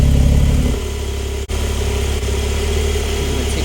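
A Porsche 992 Turbo S idles in a garage with its exhaust valves open, giving a steady, close, deep rumble that barely wavers apart from a brief dip partway through.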